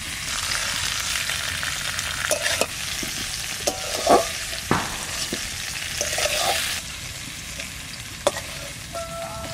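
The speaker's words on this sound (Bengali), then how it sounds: "বরবটি কটা একটু হালকা ভেজে রাখি।" Yardlong beans being lightly fried in a pan for Bengali khichuri, with a steady sizzle punctuated by irregular clinks and scrapes of a stirring spoon against the pan; no talk.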